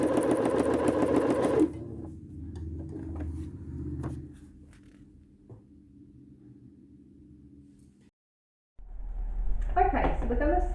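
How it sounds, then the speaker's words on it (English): A domestic sewing machine stitches fabric around a circle, whirring loud and steady at first, then running slower and quieter, pausing briefly and starting again. "we're going to sew around our circle"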